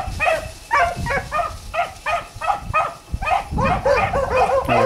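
Several dogs bark and yelp in a rapid, continuous chorus, loud and close, with a hunting pack running in line behind a lead dog.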